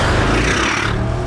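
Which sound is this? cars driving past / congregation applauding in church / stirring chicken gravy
cars driving past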